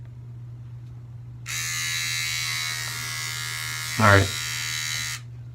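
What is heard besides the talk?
Durablade electric razor shaving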